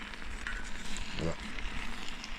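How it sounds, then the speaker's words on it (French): Ratatouille vegetables in a pot over an outdoor fire give a steady soft sizzle while being stirred, with light scraping and a faint crackle throughout. "on remélange et on touille pour pas que ça colle"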